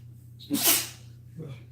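A single sharp sneeze bursts out near the mic, followed by a quiet breath, over a low steady electrical hum.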